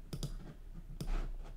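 Two quick clicks of keys on a computer keyboard during a Logic Pro X session, then another click about a second later, close and light over a low background hum.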